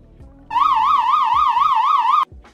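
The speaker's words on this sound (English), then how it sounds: "a car alarm sound," A car alarm sound effect, a loud wailing electronic siren with a fast rising and falling warble that sounds for nearly two seconds, with low thuds before and after it.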